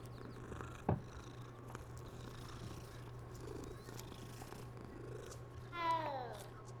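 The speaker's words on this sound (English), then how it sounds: "Gotta pet the cat." A pet cat purrs in Hogwarts Legacy while being stroked, a soft steady low rumble running under game ambience, with a brief thump and a short chirpy call near the end.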